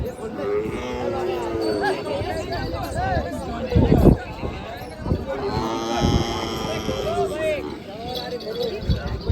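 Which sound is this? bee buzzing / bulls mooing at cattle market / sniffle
bulls mooing at cattle market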